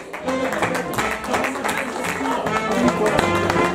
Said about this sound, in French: Allez, allez, vos applaudissements, voilà.